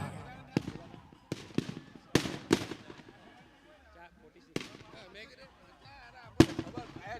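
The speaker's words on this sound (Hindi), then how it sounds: "पटाखों की आवाज" Firecrackers going off during a final match event, sharp loud bangs scattered irregularly, some in quick pairs, with crowd voices and talk underneath between the cracks.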